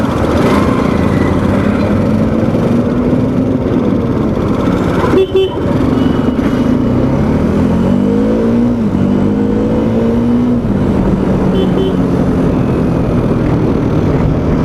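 A Bajaj Dominar 400 motorcycle with a 400cc engine hums steadily while being ridden on the road, its pitch rising and falling as it shifts and accelerates, under loud constant wind noise.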